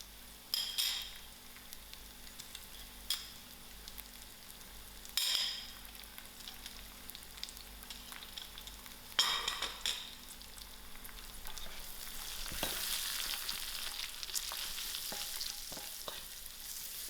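Spices and green chilies fry in a pot for a Durban-style tinned fish curry, giving a soft, steady sizzle broken by several sharp stirring scrapes and clinks, growing denser toward the end.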